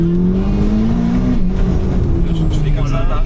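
A Corvette sports car engine pulls hard and steadily, its loud low drone rising and shifting pitch from inside the car, with people talking over it.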